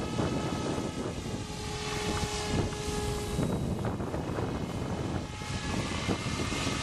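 An MSH Protos RC helicopter flies with a steady, loud whine of motor and rotor that holds through the whole stretch, with wind buffeting the microphone and no talk.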